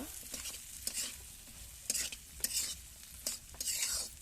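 Khichuri with chui jhal cooking in a pot, stirred in quick scraping strokes over a soft sizzle, a few distinct stirs spread across a short, fairly quiet stretch.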